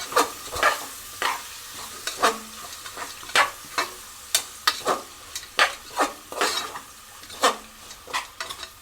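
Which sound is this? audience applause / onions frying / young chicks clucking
onions frying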